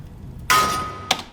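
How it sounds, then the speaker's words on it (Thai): A bright metallic bell strike rings out with a long sustained tone, followed by a second, lighter strike about half a second later. "ฟังก็รู้นี่มันเสียงยามเคาะระฆังตอนตีสองฮะ"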